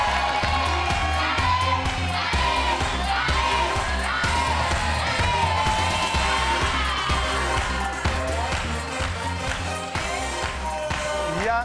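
A game show studio audience on Family 100 Indonesia cheers and claps steadily, loud and continuous throughout, with a host's voice partly mixed in.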